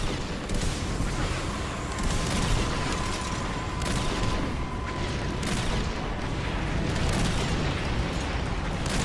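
Continuous gunfire and explosions from the Earth Defense Force video game, a dense unbroken barrage of rapid shots and booms lasting throughout, loud and close with no talking.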